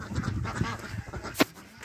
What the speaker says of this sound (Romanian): Ia uitați rățuștele